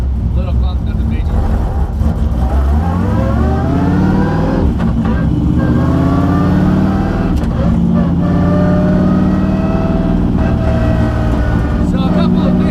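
A BMW E36 fitted with a dog box gearbox, its engine loud and close, revving up in rising sweeps that drop sharply at each quick gear change before climbing again.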